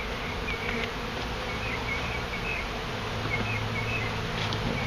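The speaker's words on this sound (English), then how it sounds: "Oh, there's an attack bee. He's coming." Honey bees buzz continuously during a hive removal, a dense droning swarm close by with individual bees whining past, steady throughout without talk.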